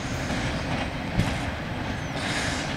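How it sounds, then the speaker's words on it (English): An eastbound Norfolk Southern intermodal freight train rolls past on the main track with a steady, loud rumble and rattle of railcars, a brief clunk of wheels partway through, and no voices. "All right, intermodal train be going east on track 1 by lights."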